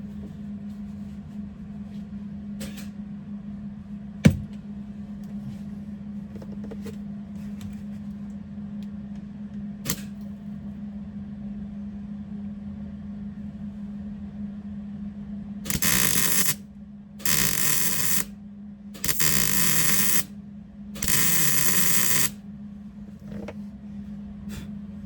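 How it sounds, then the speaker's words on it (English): Several bursts of tack welding on a 1977 Monte Carlo floorboard: four loud, harsh crackling buzzes of a second or two each, spaced apart, following a steady low hum and a few light clicks. "Tack welded."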